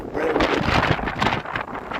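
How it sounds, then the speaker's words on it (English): Strong wind buffets the microphone near a Chicago lakeshore, a loud, continuous broadband roar with gusting swells that fill the whole stretch. "A lot of wind."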